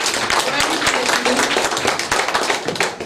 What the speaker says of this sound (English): give yourself a round of applause because you deserve it